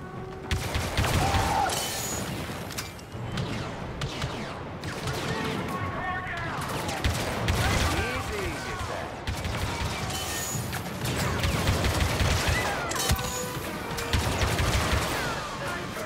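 Blaster fire and explosions in the Star Wars Battlefront II video game, with dense bursts of rapid shots, crashes and booms over a continuous battle din, and characters speaking at times.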